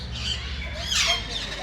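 A parrot at a zoo lets out harsh, loud squawks close by, the cries mixed with people talking over a busy background.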